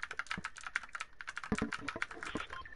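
Rapid clicking of a mechanical computer keyboard during a PS4 game session, with irregular bursts of close, crisp keystrokes and brief pauses.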